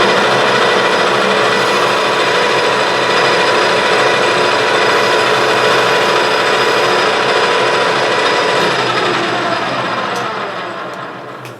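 A Clausing 6900 series metal lathe cuts a leadscrew at a doubled feed rate, giving a loud, continuous machining whir with steady tonal lines that carries on without pause and fades slightly at the end.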